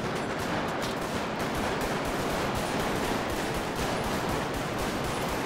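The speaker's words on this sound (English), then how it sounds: "Shooting at you, he's shooting at you." Dense, continuous gunfire rattles through a GTA RP role-play shootout, rapid shots packed together at steady loudness with no voices.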